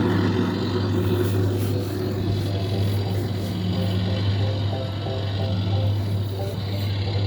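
A small red ride-on toy tractor's electric motor runs steadily with a constant low hum and a buzzing whine, close and continuous throughout, with no talk over it.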